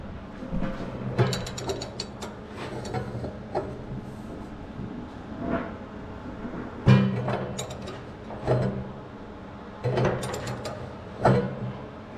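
A ratchet fitted with a cheater bar works loose a propane tank valve, giving several bursts of loud clicking pawl strokes separated by pauses and metallic clanks.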